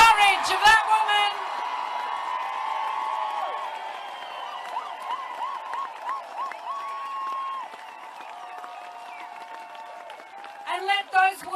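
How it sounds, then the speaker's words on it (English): A large protest march crowd cheers, whoops and applauds in support of a woman, a sustained broad roar of voices and clapping that swells at the start and end, with a loud voice shouting over it. "Let me hear you cheer the courage of that woman."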